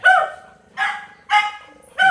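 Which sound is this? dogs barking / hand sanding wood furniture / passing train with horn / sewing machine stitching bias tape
dogs barking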